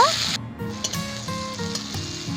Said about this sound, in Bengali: এবার তেলের মধ্যে ধুয়ে রাখা ছোট চিংড়ি শুটকি মাছ দিয়ে দিব